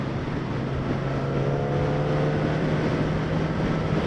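A 2016 Yamaha R6 sport motorcycle engine pulls hard under acceleration, a rising steady drone mixed with heavy wind rush, heard from the rider's position with no talking.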